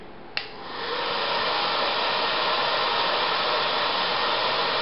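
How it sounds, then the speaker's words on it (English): Hot-air blower heating Frog Lube CLP paste: a click, then a steady, loud broadband whoosh of blowing air that holds evenly throughout, with no talk. "You can actually watch it as I heat it."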